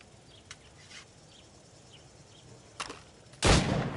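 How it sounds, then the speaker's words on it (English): Gunfire at practice targets in Assassin's Creed Rogue: a few sharp isolated shots spaced over several seconds, the last one louder and closer with a brief ringing tail, against a quiet game ambience. "Go on. Shoot these targets."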